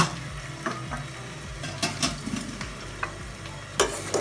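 Potatoes with spices for aloo karahi being stirred in a pan, giving soft scraping strokes and light sizzling with a few sharper clinks, steady and close with no voices.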